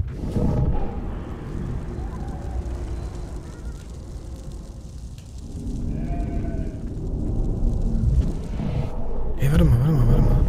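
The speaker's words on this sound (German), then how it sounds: "Kann ich mir die Schafe mal anschauen?" Sheep in the video game Beyond: Two Souls bleat in a few wavering calls over farm ambience, with a loud burst of bleating near the end, and speech can be heard in places.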